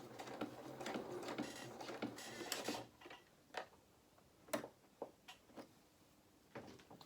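A sewing machine stitches fabric for a Lilly Rose doll's dress in a steady run of close, busy whirring. It stops after a few seconds and gives way to scattered light clicks and taps.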